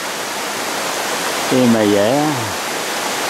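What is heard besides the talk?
waterfall cascading over large stones in a forest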